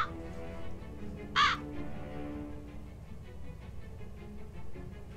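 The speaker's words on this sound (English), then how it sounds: "No, it's going to be the crow." A single short crow caw rings out in the Lucius video game, a brief harsh call standing alone over a low, steady ambient background.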